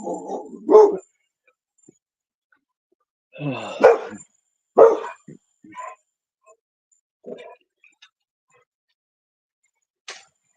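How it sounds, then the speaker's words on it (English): Several separate dog barks come in short bursts, some doubled, spread over about ten seconds with quiet gaps between them, fairly close and clear. "That's a different kind of bark."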